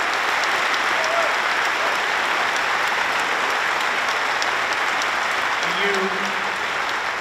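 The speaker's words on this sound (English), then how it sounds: "a big round of applause for almost all of our VIPs I mentioned just there" Steady crowd applause fills a conference opening ceremony hall, a continuous even wash of clapping with faint cheers rising briefly over it.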